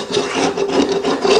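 Steady rasping scrapes of a Persona 4-inch hand scraper drawn across wooden floor steps during underlayment prep, close and loud with short repeated strokes and no talking.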